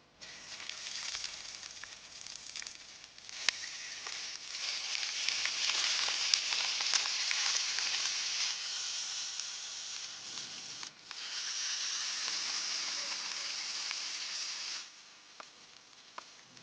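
Parboiled lamb ribs fry in hot oil in a pan, giving a steady, loud, crackling sizzle that briefly dips, then resumes at full strength before easing off near the end.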